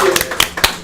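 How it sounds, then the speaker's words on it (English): Clapping from a live studio audience at a music-show taping, a few sharp, close hand claps with gaps between them rather than a full ovation. "Let's give a hand of applause for our live studio audience."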